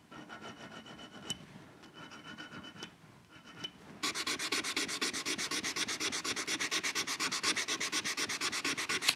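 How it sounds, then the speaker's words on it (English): A file rasps across a bass guitar nut in a luthier's shop, with light scraping at first, then steady rhythmic strokes growing louder and continuous, close up and without talk. "We're gonna do a little bit of filing now"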